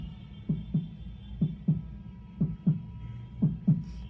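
A man imitates a heartbeat with his voice, producing four evenly spaced lub-dub pairs of soft, low thumps over a faint hum.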